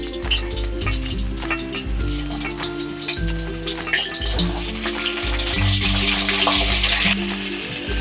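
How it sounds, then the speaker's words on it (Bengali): Eggplant slices frying in the same hot oil as before over a lowered gas flame, a steady close sizzle running the whole time with a few clinks of a utensil, backed by faint music. "এই একই তেলে এবার আমি বেগুনগুলো ভেজে নেব।"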